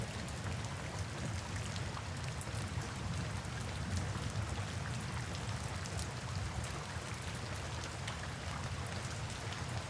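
Steady rain pours down continuously and evenly, a dense hiss of drops with a low rumble beneath, sounding close and unbroken throughout, with no voices or other sounds.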